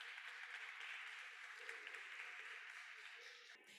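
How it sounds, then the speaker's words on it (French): Steady applause from a conference audience at a closing ceremony, sustained and even for several seconds before tapering slightly at the end, with no talk over it. "un applaudissement, s'il vous plaît."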